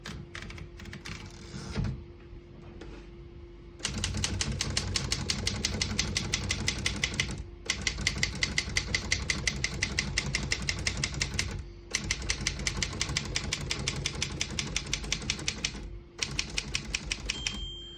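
Steady, rapid clacking of keys on a Royal KHM vintage manual desktop typewriter in long bursts, close and loud, broken by brief pauses and the clunk of a carriage return.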